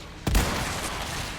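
A single rifle gunshot fired in the video game Resident Evil 4, a sharp loud crack followed by a short fading tail, with no talk over it.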